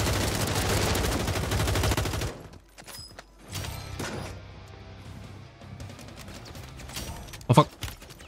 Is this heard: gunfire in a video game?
yes